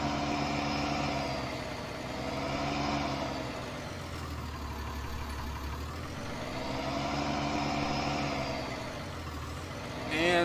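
Diesel engine of a 1990 Chevy and second-generation Ram 3500 dually truck idling in Farming Simulator 19, a steady low rumble that swells and eases in slow waves, close and continuous with no talk.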